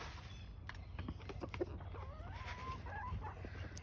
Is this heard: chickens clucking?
yes